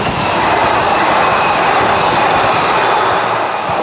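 A fast train rushing past on railway tracks in Sweden, a loud continuous roar and rumble that fills the whole moment, very near, with no voices.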